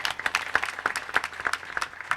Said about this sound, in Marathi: त्याबद्दल महाराजांसाठी एकदा जोरदार टाळ्या वाजवा